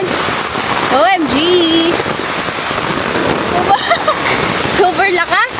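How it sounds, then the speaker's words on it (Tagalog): Heavy rain pours steadily during a coconut harvest, a loud dense hiss close by, with excited voices shouting and talking over it. "Lakas ng ulan ngayon."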